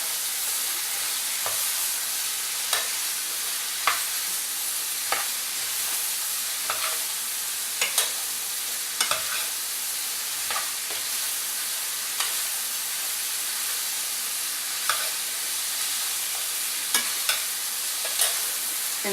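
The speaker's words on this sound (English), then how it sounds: "I'm just going to stir fry these off real quick" Green pepper and okra for gumbo sizzle steadily in a hot pan, a constant bright hiss broken by regular scraping knocks of a utensil stirring, close and loud with no speech.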